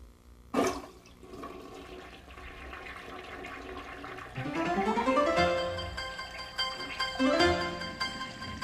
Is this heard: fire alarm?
no